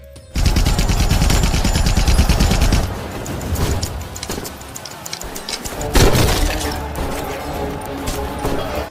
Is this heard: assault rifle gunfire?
yes